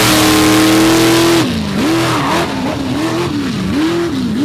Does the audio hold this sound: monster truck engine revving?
yes